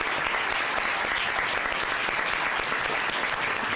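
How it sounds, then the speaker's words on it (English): A high school Model United Nations audience gives the student representatives a big round of applause during a committee briefing, a continuous, even roar of many clapping hands that fills the room without pause. "Let's thank our representatives with a big round of applause before they take their seats."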